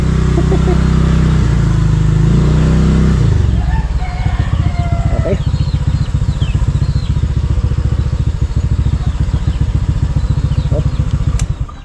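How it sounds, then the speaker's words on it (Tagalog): Engine of a motorcycle running steadily up close at low pitch, with a heavier rumbling start before settling into an even idle-like drone; a rooster crows faintly in the background. "Tara mga kautol, ito na yung motor ni Tol Mike."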